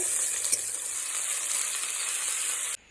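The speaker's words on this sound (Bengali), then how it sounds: "এখন আলুটাকে ভালো করে ভেজে নেব।" Chopped potatoes frying in hot oil in a wok as a veg chow mein is cooked, giving a steady close sizzle that cuts off abruptly near the end.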